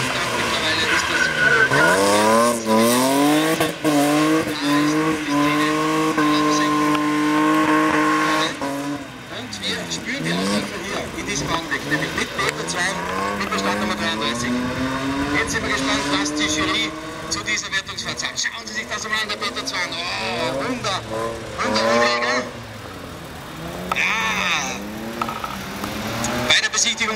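A drift car on a drift run revs hard with rising and falling engine pitch, while its tires squeal and skid throughout. A commentator talks over it.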